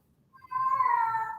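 A female cat in heat calls for a mate with one loud, drawn-out yowl that swells quickly and holds steady, close by and alone.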